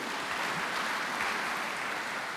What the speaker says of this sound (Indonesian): Tepuk tangan untuk ibu-ibu dulu.